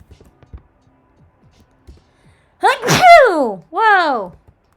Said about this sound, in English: Whoa! I sneezed.